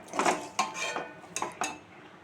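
Dishes and cutlery clink and clatter while oats khichdi is served, with several sharp metallic knocks of a spoon against a pot or plate spread over a couple of seconds, close and fairly clear with no talking.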